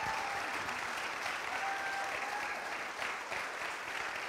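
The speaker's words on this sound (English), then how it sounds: "let's take a few minutes to give them a round of applause and cheers and thanks" A church congregation gives a sustained round of applause, many hands clapping evenly at moderate distance, a continuous wash that softens briefly before carrying on.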